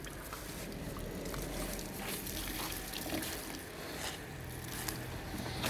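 Faint, steady splashing of cold water running from a sink tap while washing mopheads, soft and continuous with occasional light knocks and clatter.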